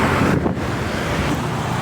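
Steady road traffic roar with heavy wind buffeting on the microphone while riding a motorcycle along Kalayaan in Manila, continuous and close with no pauses.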